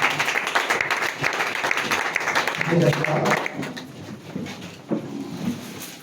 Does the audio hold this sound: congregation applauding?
yes